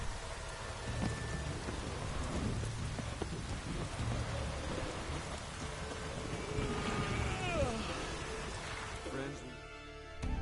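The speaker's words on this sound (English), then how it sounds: "That sound, the thunder sound." Thunder rumbling through steady rain in The Witcher 3 video game, a dense wash of rainfall on surfaces with low rolling thunder underneath, continuous and fairly loud throughout.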